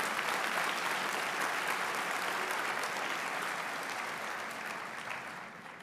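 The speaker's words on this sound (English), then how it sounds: "give them a round of applause." Broad, even applause from a large audience at a university convocation ceremony for a School of Hospitality, Recreation & Tourism, heard from a distance and slowly tapering off over about six seconds.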